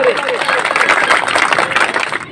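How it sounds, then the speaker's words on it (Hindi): Crowd applause welcoming the chief guest at a ward office inauguration ceremony, a dense continuous wash of many hands clapping, loud and steady, with crowd murmur mixed in throughout. "जोरदार तालियों से इनका स्वागत करें।"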